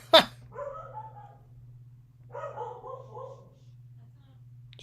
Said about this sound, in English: Sounds like our dogs are freaking out.